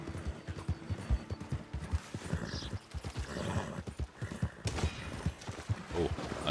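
Horse hooves clip-clop in a steady rhythm with a brief whinny, from the Red Dead Redemption 2 online game, the sound busy and continuous against other game noise.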